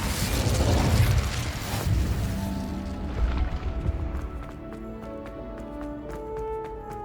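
Incendio fire spell cast in the video game Hogwarts Legacy, a loud whooshing burst of flame that fades over a few seconds into softer crackling and magical chimes, with no talking.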